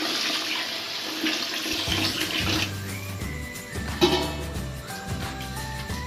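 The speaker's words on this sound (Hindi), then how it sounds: "पानी ऐड कर देंगे" Water poured into rice and masala for chicken pulao, a steady close splashing stream running for several seconds with no talk.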